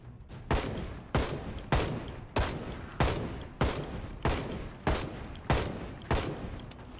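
Gunfire in the zombie survival video game Project Zomboid, ten loud evenly spaced single shots about once every 0.6 seconds, each with a sharp crack and short decaying tail.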